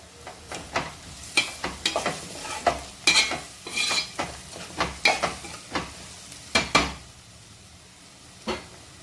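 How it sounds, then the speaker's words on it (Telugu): Fenugreek seeds and torn curry leaves crackle in hot oil while a spoon stirs and knocks against the pan in a run of sharp, irregular clacks over a low background sizzle, with no speech. "మెంతులు వేసుకున్నాక కొద్దిగా కరివేపాకు ఇట్లా తుంపి వేసుకోండి"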